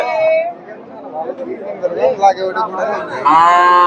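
Cows moo loudly among a crowd's chatter and voices at an open cattle market in Bogura, Bangladesh, with a long low call at the start and another at the end.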